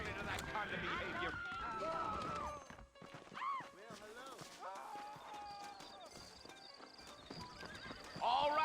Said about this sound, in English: got the horses saddled up and ready out front